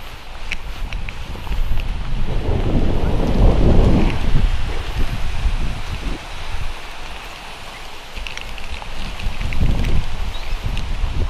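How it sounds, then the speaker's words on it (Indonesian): Strong wind gusts roar through a forest as rain threatens, swelling and easing in loud rumbling waves with rustling leaves and occasional footsteps nearby. "Angin."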